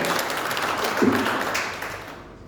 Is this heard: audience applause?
yes